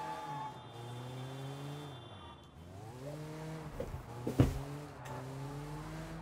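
An impounded car in Sleeping Dogs drives along with its engine rising and falling through gear changes, followed by a brief tire squeal and a thump, heard fairly quietly and without talking.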